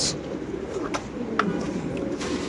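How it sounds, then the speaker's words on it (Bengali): Male Mundian pigeons coo softly nearby, low throaty calls repeating over a faint background murmur, with a few sharp clicks. "মুন্ডিয়ান নর কবুতর"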